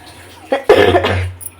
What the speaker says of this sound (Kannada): ಈ ಥರ ಕೆಮ್ಮಿದೆ ಏನು ಮಾಡೋದು